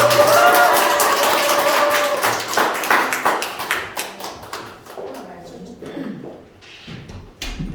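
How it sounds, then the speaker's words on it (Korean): An audience at a company gathering applauds as a business leader is introduced; the clapping is loud and dense at first, then thins and fades over several seconds as a voice begins to speak. "제가 대표님을 소개시켜줄 때 뜨거운 박수 부탁드리고요."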